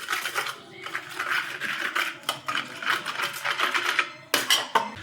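Paneer mixed with yogurt in a bowl, a continuous close scraping and clinking of a spoon against the bowl with soft wet squelches, steady throughout with a couple of sharper knocks near the end.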